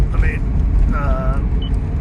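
A 2007 Toyota Prius cruises on the freeway, its cabin filled with a loud, steady low road and tire roar while a person talks over it.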